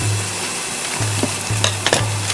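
A frozen raw hamburger patty fries in a pan with a steady, close sizzle, broken by a few light clicks and scrapes, with no talking.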